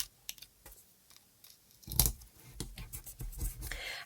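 Scissors cutting a piece off paper for a recycled iris folding craft, several close snips and crisp rustles in quick bursts, with one louder cut near the middle.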